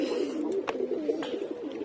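Guest pigeons coo softly in a loft, a low, continuous, rolling murmur with no voices.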